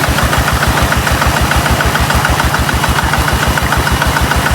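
A Kubota ZT155 diesel engine drives a water pump, running steadily at a close distance with a loud, even, rapid thumping beat throughout and no talk.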